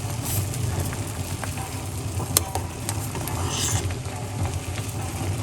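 Beetroot, lemon and ginger tea boiling in a pot, a steady close bubbling churn with rumbling low tones and occasional sharper clicks and knocks, continuous throughout.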